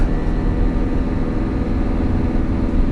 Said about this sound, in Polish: wydech tam gada tak, że normalnie szok